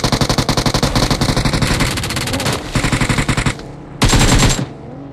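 PUBG Mobile gunfire rattles out as rapid, loud automatic bursts with evenly spaced shots, a short pause, then more bursts and a final dense volley, all close and prominent.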